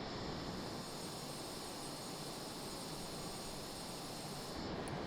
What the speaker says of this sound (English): And we've just taken off the carrier.